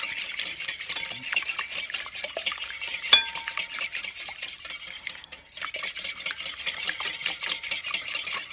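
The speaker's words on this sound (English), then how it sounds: "Okay, let's just give that a mix." Melted butter being stirred into apple cake batter in a bowl, a steady close scrape-and-swish of utensil with a few sharper clinks, no talking.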